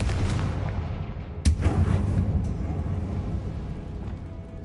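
A Confringo explosive spell cast in Hogwarts Legacy on PS5: one sharp blast bursts out of a steady low rumble and rolls into a fading booming tail, loud and close with no talk.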